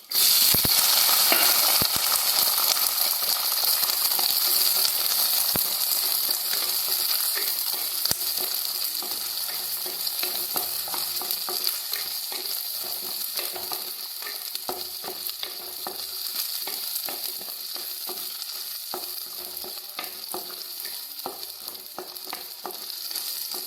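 Small onions (shallots) frying in a pan, a steady bright sizzle with scraping stir strokes throughout, gradually easing slightly in loudness over the long stretch.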